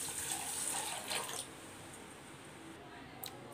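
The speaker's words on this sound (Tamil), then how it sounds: "தண்ணி ஊற்றி ஊற வச்சாச்சு." Water poured over twice-washed rice in a bowl to soak for Tamil-style veg pulao, a steady trickling splash for about a second and a half, then fading to a quiet wet background.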